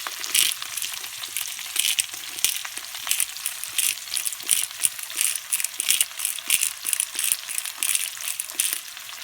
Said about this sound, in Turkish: Evet, şöyle söteleyeceğim.